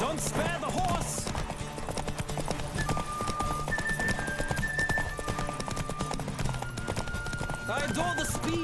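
Rapid hoofbeats of a horse in The Witcher 3 clatter continuously in a galloping rhythm, with the horse whinnying near the start and end, over busy game music and effects.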